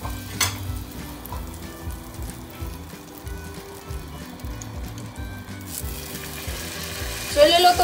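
Chicken frying in butter in a pan gives a steady, close sizzle with crackling throughout, and a brief clatter near the end.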